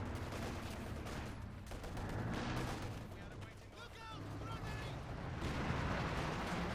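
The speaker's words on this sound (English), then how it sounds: "Grenades going off there" Grenades exploding during a Company of Heroes 2 battle, thudding blasts mixed with dense rifle and machine-gun fire, constant and rather distant, with faint voices in the mix.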